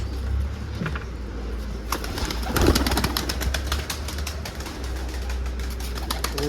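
Hungarian pigeons scuffle in a loft, with low cooing, wing flaps and pecking scuffles amid a continuous busy background, fairly close.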